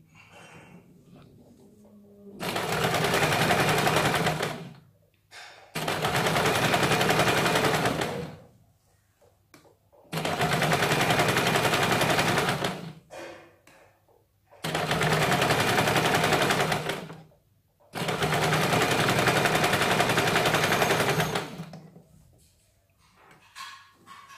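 A sewing machine stitches the folded inner edge of a katori blouse in five long, steady runs of a few seconds each, separated by short pauses, loud and close.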